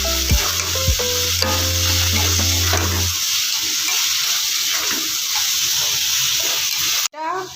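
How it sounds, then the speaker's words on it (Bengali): Boiled taro stolons (loti) stir-fried in a pan with sugar, giving a steady close sizzle with stirring scrapes, and a tonal hum through the first few seconds. "এবার সেদ্ধ করা লতিটা দিয়ে দিলাম"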